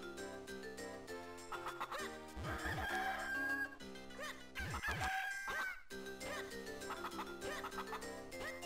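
Cucco chickens in the video game Zelda: The Minish Cap, squawking and crowing in repeated bursts over steady, melodic in-game music with sound effects.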